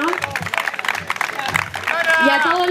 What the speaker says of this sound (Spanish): Un aplauso para los chiquillos, se lo merecen